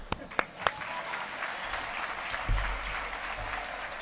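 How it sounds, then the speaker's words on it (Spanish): Audience applause at a business awards gala in San Juan, opening with a few sharp isolated claps before settling into steady, moderately loud clapping across the hall. "Otro aplauso."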